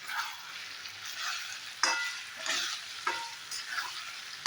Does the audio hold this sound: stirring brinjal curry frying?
yes